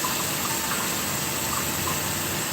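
Warm water pours steadily from a tap into a pot of raw eggs, a continuous close gushing hiss with no talk over it.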